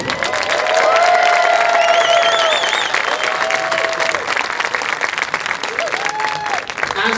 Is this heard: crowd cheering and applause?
yes